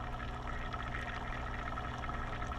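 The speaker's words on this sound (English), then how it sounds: "You can probably hear that bubbling going." Steady bubbling and trickling water from a hydroponic pump in a soil-free kale microgreens setup, a continuous close wash of gurgling with a low hum underneath and no talk.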